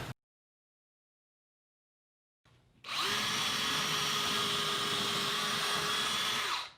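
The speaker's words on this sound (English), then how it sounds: "I'd best get to the drilling here." After a stretch of silence, a power drill whirs up and runs steadily at high speed drilling holes in wood siding, loud and close, holding its pitch for several seconds.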